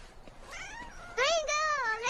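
A cat stuck up high meows several times in drawn-out, rising and falling calls, loud and close, the later cries stronger, with voices in the background.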